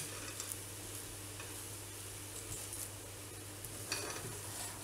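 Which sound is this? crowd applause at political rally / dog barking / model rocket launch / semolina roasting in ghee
semolina roasting in ghee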